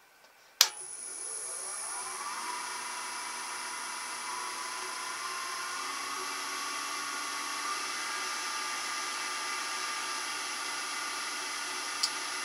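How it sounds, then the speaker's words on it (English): A wood lathe spins steadily at about 600 RPM, a constant whirring hum with a faint whine that starts after a click and holds evenly, no talking. "we basically turn the lathe on, turn it up to about 600 to 800 RPM"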